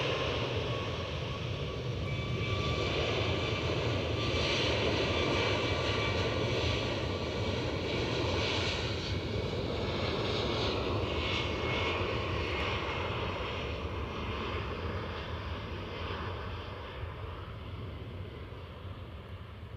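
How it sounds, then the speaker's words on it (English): A Lufthansa Airbus A380 jet overflies Edinburgh, heard as a broad, distant engine roar that holds steady for about twenty seconds and slowly fades toward the end, with no voices. "Well, I think I can hear something, so perhaps that is the 380."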